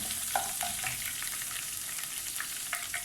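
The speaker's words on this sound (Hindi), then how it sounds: "इसको तेल में शामिल कर दूँगी। बस ये थोड़ा सा भुन जाएगा।" Coarsely crushed peeled garlic frying in hot oil for a raw mango pickle, a steady close sizzle with scattered pops and crackles throughout, no voices.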